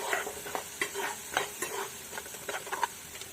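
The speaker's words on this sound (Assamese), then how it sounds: "আৰু মছলাখিনি যে ভালদৰে এনেকৈ তেলত ভাজি ল'ব লাগে" Masala spices frying in oil in a pan while being stirred, soft sizzling beneath repeated scraping strokes of a utensil against the pan at an uneven, busy pace.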